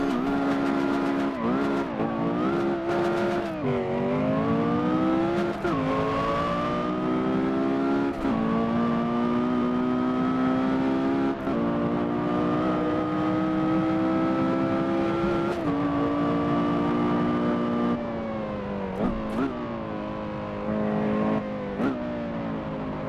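A Porsche Carrera GT engine pulls hard through the gears on a drive, its high wailing note climbing repeatedly with brief drops at each shift, loud and continuous with no talking.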